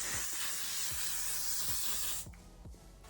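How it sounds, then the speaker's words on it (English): L'Oreal Infallible 3-second setting mist sprays in one long close hissing burst that cuts off sharply near the end, followed by quiet room tone. "Final step is what looks like hairspray, but it's actually a setting spray."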